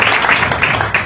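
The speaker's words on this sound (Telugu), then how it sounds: "కొట్టండి బిగ్గరగా చప్పట్లో" A congregation at a gospel ministry service in Kuwait claps loudly together, a dense, steady wash of hand claps filling the whole moment with no pauses.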